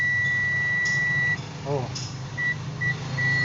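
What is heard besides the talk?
continuity test beeps from an ANT test probe buzzer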